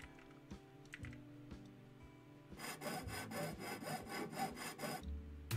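Ship sections are cut apart in Ship Graveyard Simulator, heard as a rapid, rhythmic rasping cut that starts after a few scattered clicks and runs loud and steady for about three seconds before stopping.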